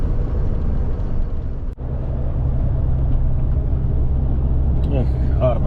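A cement truck drives along a Ukrainian highway, its engine a steady low rumble and road drone that continues throughout, with a brief dip in level partway through.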